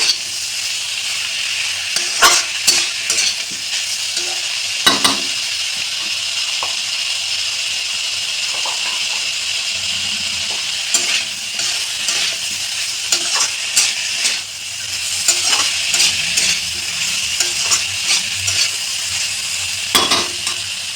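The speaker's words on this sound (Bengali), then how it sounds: "টমেটোটাই দিয়ে দিলাম। একটু ভালো করে নেড়ে চেড়ে" Tomatoes sizzle steadily in a pan for masoor dal while a spatula scrapes and taps irregularly, stirring throughout.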